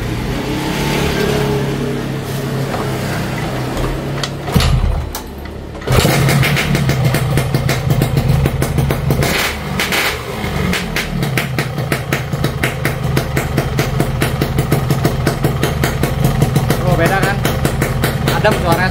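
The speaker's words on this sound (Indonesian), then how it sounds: "Sekarang kita dengerin suara mesinnya sama nggak dengan yang sebelumnya yang goyang" A repaired motorcycle engine idles steadily after a brief start, its even, close putter running continuously with someone talking over it.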